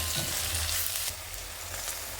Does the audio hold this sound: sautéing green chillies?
yes